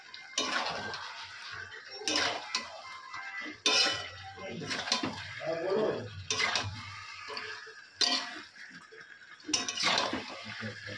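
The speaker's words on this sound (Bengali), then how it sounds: "এখন আলুটা দিয়ে দেবো এর মধ্যে।" Potatoes go into a pan and get stirred, with a spoon repeatedly scraping and clanking against the metal in bursts, close by, over a faint background hiss.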